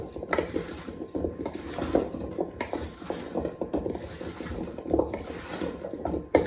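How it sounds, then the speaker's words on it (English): A spoon stirs seasoned potato chunks in a bowl to coat them with taco seasoning, giving repeated scraping, clinking and wet shuffling strokes in an uneven rhythm, close and fairly loud with no talk. "I'm just gonna stir to coat it"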